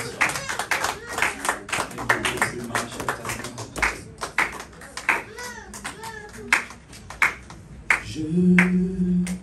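Congregation in a church service clapping in irregular bursts, with scattered voices and cheering mixed in, lively and close, a low sustained tone swelling near the end.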